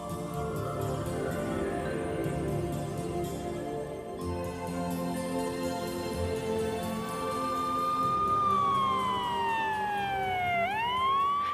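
Sirens wail outside a church, starting as a blend of traffic and horn tones, then a loud, clear rising-and-falling siren sweep dominates toward the end.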